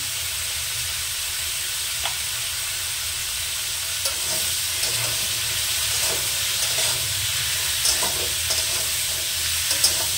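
Radish and puti fish curry with salt and turmeric sizzles steadily in a pan as it is stirred, with a constant close frying hiss broken by occasional scraping strokes and no voices.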